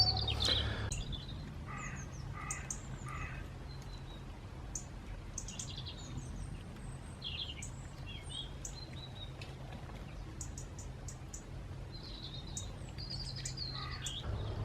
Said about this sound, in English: And then there are the small garden birds.